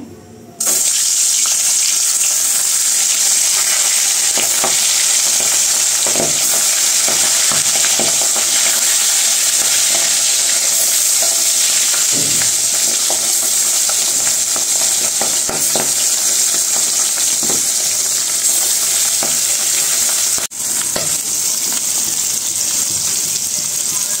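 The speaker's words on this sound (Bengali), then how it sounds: "কড়াইতে তেল দিয়ে দিছি, এখন মাছগুলো ভেজে নেব প্রথমে।" Puti fish frying in hot oil in a wok for a fish curry, a loud steady sizzle running continuously throughout with faint stirring clicks underneath.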